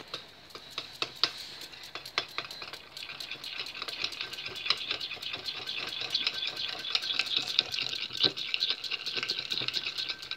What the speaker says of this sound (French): Donc, on touille.